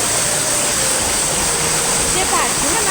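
A small stream flows steadily with a constant rushing, gurgling wash of water close by, alone with no voices.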